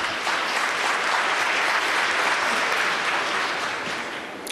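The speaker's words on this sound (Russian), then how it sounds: "У нас прямо как на съезде КПСС длительные, продолжительные аплодисменты в адрес выступающих" Sustained applause from a conference audience for the speakers, a dense, steady wash of many hands clapping at even loudness throughout, tapering slightly toward the end.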